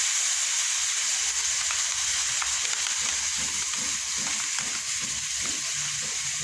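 Soy sauce poured into adobo sa gata, pork or chicken adobo in coconut milk, sizzling in a pan; a steady loud frying hiss runs throughout, with soft bubbling underneath and no talk.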